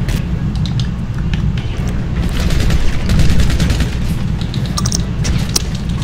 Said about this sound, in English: Bro, stop using shotguns, bro.